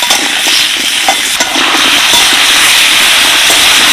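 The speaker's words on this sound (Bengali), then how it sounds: "এবার দিয়ে দিচ্ছি কেটে রাখা পেঁপে আর আলু। আলু আর পেঁপেটাকে ভালো করে ভেজে নেব।" Chopped papaya and potato hit hot oil with curry leaves, setting off a loud, continuous sizzling hiss with a few crackling pops early on, holding steady throughout.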